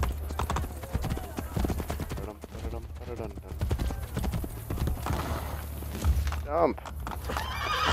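Horse hooves clip-clop steadily while a horse neighs in the video game Assassin's Creed Brotherhood, with people talking over the sounds throughout.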